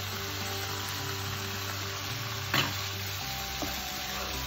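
Tomatoes fry with spices in a pot of oil, making a steady close sizzle throughout, with one brief stirring clatter partway through and no talking.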